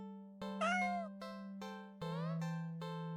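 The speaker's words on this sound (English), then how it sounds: "Cat meows pitifully at us" A cat meows pitifully several times in a row, close and fairly soft. The plaintive calls rise and fall in pitch over a steady low hum.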